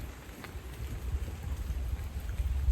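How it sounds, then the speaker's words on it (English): Steady rain patters softly on a surface at a solo wild camp, a dense, even hiss with low rumbling underneath, no voices. "It'll be just the rain anyway."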